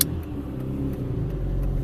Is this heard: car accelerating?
yes